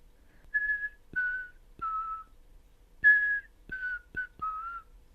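A person whistles a short tune in clear, separate phrases, with soft clicks between notes in an otherwise quiet room.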